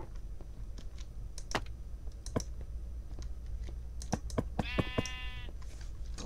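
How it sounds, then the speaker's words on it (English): A single sheep bleats in a video game with a short, wavering call that stands out clearly over soft, scattered clicking and a low steady hum. "Let's spawn some sheep in."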